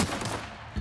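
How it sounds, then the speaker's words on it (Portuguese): Gunfire in the video game The Outer Worlds, a short burst of loud shots hitting at once, with dense rapid reports over a busy game soundscape and no talking. "Quem tá atirando em mim?"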